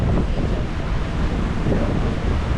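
A wide beach at low tide on Jekyll Island, with steady surf and wind rushing across the microphone in a constant, loud wash with no voices.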